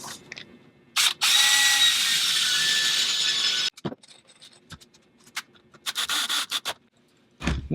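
Drill driving wood screws into shelf panels: one sustained whirring run of a couple of seconds, then short bursts and clicks of handling, close by and alone.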